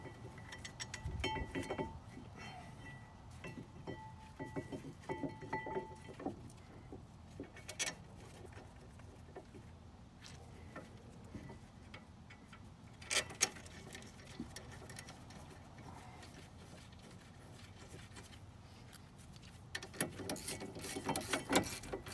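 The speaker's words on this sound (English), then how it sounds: "right now we're going to reassemble this first portion of the caliper assembly with the 18mm bolts." Dodge Charger brake caliper being reassembled with 18mm bolts, giving close mechanical ratcheting, metallic clicks and clinks in scattered bursts over a quiet background, with louder flurries near the start, middle and end.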